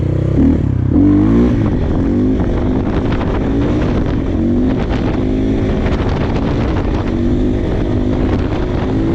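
A motorcycle engine revs hard during wheelie practice, its pitch climbing early and then holding a loud, rough drone, mixed with heavy wind buffeting on the microphone and no talk.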